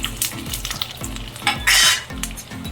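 Thin ivy gourd slices sizzle and fry in a pan while a utensil stirs and scrapes them in repeated strokes, with a louder burst of hissing midway through.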